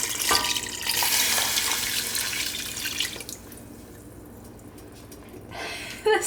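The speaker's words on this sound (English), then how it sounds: "Now I'm adding 2 cups of water." Two cups of water poured into a yogurt mixture, a steady splashing pour for about three seconds that then eases into quieter trickling and a few drips before a brief splash at the end.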